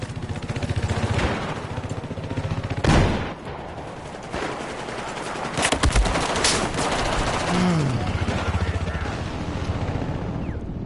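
Rapid automatic AK rifle fire in Battlefield 4 gameplay, dense continuous bursts close and loud, with a heavier blast near three seconds and another around six, alongside explosions and game effects.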